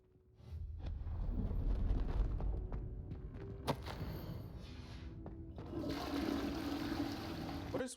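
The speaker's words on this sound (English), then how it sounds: "What is with flushing all these toilets?" Toilets flush one after another in the video game Hogwarts Legacy, a rushing watery swell followed by trickling and a thud, then a second gushing flush.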